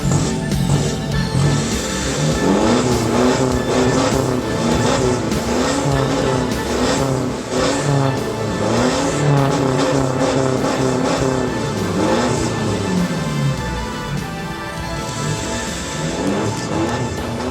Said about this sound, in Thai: ฟังเสียงท่อกันบ้างนะครับ